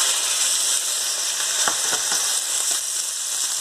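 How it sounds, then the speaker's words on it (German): Turkey breast sizzles in olive oil in a large pan, a loud steady frying hiss with a few soft scraping stirs or turns partway through, heard close with no talking. "Braten von allen Seiten."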